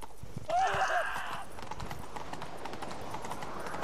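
Rhythmic hoofbeats of a galloping horse in The Witcher 3: Wild Hunt, with a short whinny near the start, over a steady low rumble.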